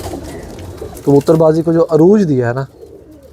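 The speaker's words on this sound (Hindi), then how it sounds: "पुराने टैडी कबूतर हैं सारे" Old Teddy pigeons coo in a few loud, close, rolling calls that rise and fall, with someone speaking over and between them and faint background noise after.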